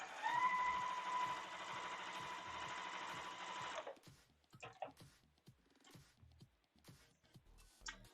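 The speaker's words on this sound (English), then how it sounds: "I went through a couple of bobbins with the machine already" A home sewing machine runs steadily for about four seconds, stitching half-square-triangle quilt pieces, then stops, leaving scattered soft handling clicks and rustles.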